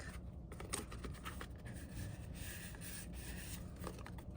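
Cut paper pieces being curled back over a wooden dowel, heard as a close, quiet, continuous rubbing and scraping with no talk.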